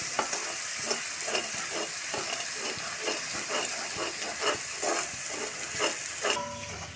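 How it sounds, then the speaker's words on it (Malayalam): Garlic frying in a pan for a pork roast, stirred steadily with a utensil: a continuous hot sizzle with regular scraping strokes close by, no talking. "ഈ വെളുത്തുള്ളിയുടെ പച്ചമണം മാറി വരുന്ന വരെ നമുക്കിത് ഇളക്കി കൊടുക്കാം"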